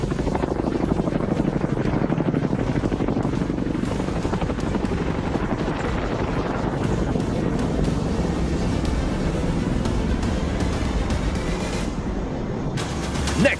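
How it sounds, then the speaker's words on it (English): Two Airbus H-225M medium-lift helicopters of an air force squadron fly past at a national day air show, their steady rotor thump and turbine roar loud and continuous throughout, with wind buffeting the microphone. "at the NDP are 2 H-225M medium-lift helicopters from 125 Squadron"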